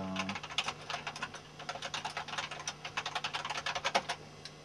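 Quiet, rapid clicking of keys on a light-up computer keyboard, a steady run of close taps with brief irregular pauses and no voices.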